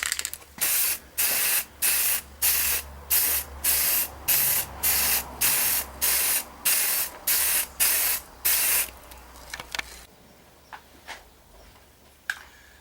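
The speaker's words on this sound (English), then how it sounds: "I'm going to start giving it the first coat of red here now." A spray can lays a coat of red paint onto a homemade portable air tank in a regular series of loud, close bursts of hissing, about a dozen evenly spaced blasts, then a few faint clicks and rattles after the spraying stops.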